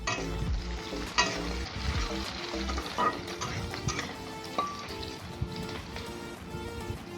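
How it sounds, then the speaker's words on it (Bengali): Pieces of eggplant fry in hot oil in a pan for a traditional Bengali vegetarian dish, a steady close crackling sizzle with occasional louder spits and stirring clatter, no talking. "এবারে আমি বেগুনগুলো ভেজে নেব লাল করে।"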